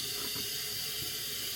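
Hot water pouring steadily into a pot of rice, a continuous hissing, splashing rush of liquid close to the microphone with no break for the whole moment.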